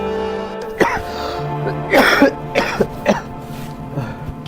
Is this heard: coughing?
yes